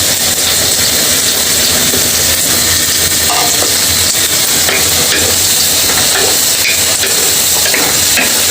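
Tomatoes sizzle in a pan of well-fried spices for a fish curry, a steady, dense hiss with faint scraping stirs, close and continuous with no talk.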